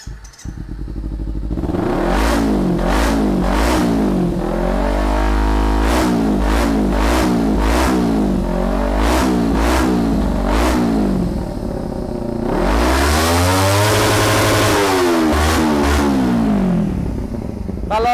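A motorcycle engine revs hard again and again, each throttle blip rising and falling through a loud racing exhaust, with a long sustained rev near the end.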